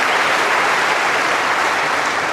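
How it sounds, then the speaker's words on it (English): Spectators at a men's singles quarter final of the Brisbane International tennis tournament applaud in a dense, loud, continuous wash of clapping that fills the whole stretch without a break. "You can already hear the crowd so enthusiastic for him."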